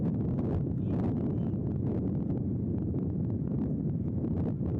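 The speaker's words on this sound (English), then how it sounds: "Wind starts gusting a little more out to left field still." Wind gusts across the microphone at an outdoor college baseball field, a steady low rumbling buffet that holds throughout with no pauses.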